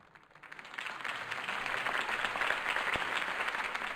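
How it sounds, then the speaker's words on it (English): Crowd applause follows a political campaign speech in the Batman Telltale video game, a steady wash of many clapping hands swelling in within the first second and holding at moderate distance. "If only Mr. Wayne, my campaign's largest backer, could have heard that applause"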